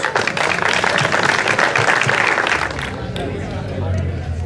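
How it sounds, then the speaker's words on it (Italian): Dense applause from a crowd at an award ceremony for the 1st Slalom del Pollino car rally, a steady wash of clapping with chatter mixed in, thinning slightly toward the end. "Un applauso."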